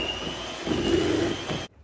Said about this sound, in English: beat the whole lot with your electric mixer for 2 minutes on medium